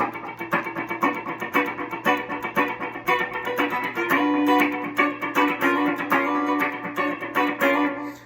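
Rhythmic strummed electric guitar with a choppy, percussive feel from left-hand string muting, steady driving pulse with short clipped chords.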